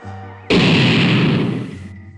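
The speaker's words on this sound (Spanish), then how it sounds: "En ese instante, una explosión ensordecedora" A deafening explosion in a Kamen Rider hero story bursts in suddenly after a low droning tone, a loud, broad roaring blast that holds for about a second and a half before cutting off abruptly.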